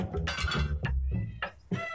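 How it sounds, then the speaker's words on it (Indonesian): A cat meows several times nearby in short, clear cries spread over two seconds, with no speech. "Tadi ada suara kucing dah."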